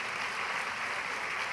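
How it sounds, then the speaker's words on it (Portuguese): A church congregation applauds during a leadership class service, producing a brief, even burst of clapping at a moderate level with no talking over it. "Dê um aplauso ao Senhor."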